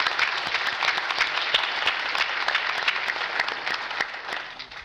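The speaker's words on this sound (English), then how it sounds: "a round of applause for you all." Audience at a public safety conference breaking into steady, dense applause, a close crowd clapping continuously for a few seconds without pause.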